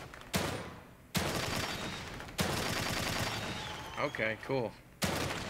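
Gunshots in the survival horror game The Evil Within 2: a few loud, booming single shots with long reverberant tails, separated by pauses, with a brief spoken exchange in between.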